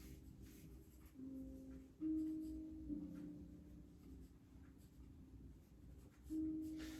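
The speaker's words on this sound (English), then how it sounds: "So I'm using an 8B pencil" Soft 8B pencil strokes scratch across paper, quiet and close, in short bursts with brief pauses between them.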